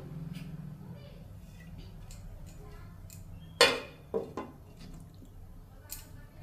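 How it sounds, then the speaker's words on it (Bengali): A lid goes onto a cooking pot of sprouted chickpea curry with one sharp clank and then two lighter knocks, against a faint kitchen hum. "এখন এটাকে ঢাকা চাপা দিয়ে দেব।"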